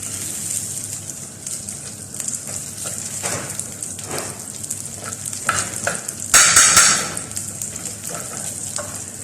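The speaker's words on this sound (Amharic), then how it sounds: "ለውዝ ላይ ቅቤ ጨምራለሁ" Peanuts frying in Arab butter crackle with a steady, close sizzle like light rain, broken by occasional stirring scrapes and one louder hissing burst.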